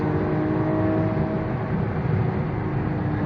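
A Lamborghini Aventador accelerating flat-out on the Vallelunga track, heard from inside: a loud, dense engine roar with a steady whirring drone held throughout, with no talking.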